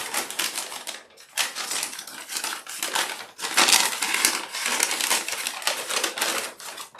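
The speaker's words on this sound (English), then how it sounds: "I like to take a brown paper bag And I just cut it up." Scissors snip through a brown paper bag in a steady run of close, crisp crinkling cuts, with short pauses between bursts, while paper is prepared for a simple spring tulip arrangement.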